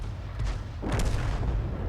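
A leFH18B2 artillery gun fires once in World of Tanks, a single deep, heavy boom rising out of a constant low rumble and fading over the following second.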